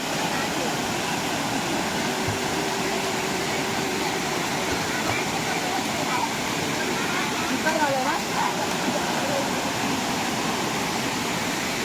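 Rushing water from a village waterfall running low after little rain, a dense steady roar that fills the whole stretch at constant loudness with no breaks.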